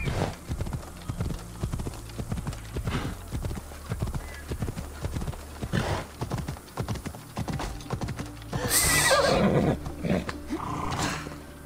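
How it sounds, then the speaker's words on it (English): Horse hooves clip-clop in a steady, close rhythm in Assassin's Creed Odyssey, followed by a brief whinny and a burst of rougher noise near the end. "We can't drive a horse through here."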